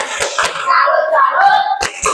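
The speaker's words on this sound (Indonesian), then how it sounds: "Beri tepuk salut." Children in a sixth-grade classroom perform the 'tepuk salut' clapping routine: two quick, sharp claps, a short chanted phrase, then two more claps, loud and close.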